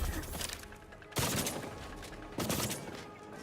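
Gunfire in The Outer Worlds 2 rings out as two sharp, loud shots roughly a second apart, each fading into a reverberant tail over steady background noise.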